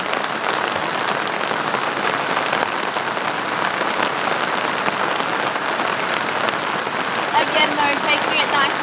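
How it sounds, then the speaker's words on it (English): Steady rain pours outdoors, a dense, loud hiss of drops hitting the ground that stays even throughout with no voices over it. "we need to get out of this rain as soon as possible"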